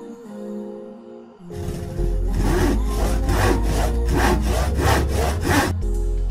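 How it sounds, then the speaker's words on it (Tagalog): A hand saw cuts through wood in steady rhythmic strokes, about eight rasping back-and-forth passes, loud and close after a quiet start with no talking. "ang maaaring tunog ng lagari"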